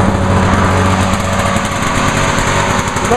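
A lawn mower engine treated with Seafoam runs steadily up close, giving a loud, constant buzzing drone with a rough, slightly uneven idle, heard alone without speech.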